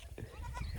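A goat gives a short, faint bleat, a single brief call against quiet farmyard background.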